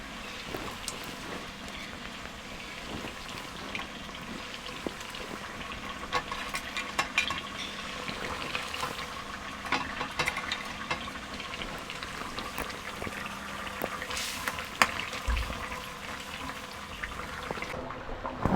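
Skipjack tuna fries gently in a pan of sambal oil, giving a faint, steady bubbling sizzle with small irregular pops and spatters throughout, quiet and close.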